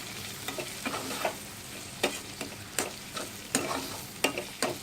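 Masala spices, turmeric and ground coriander, fry for poha in a pan as a spoon stirs them, with sharp scraping strokes at an irregular beat over a constant close sizzle and no talking.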